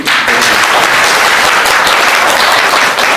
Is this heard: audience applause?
yes